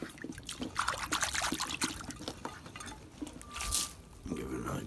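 Water trickles and splashes as a container on a homestead is emptied and refilled, with irregular pours and drips close by and a brief clink of the container.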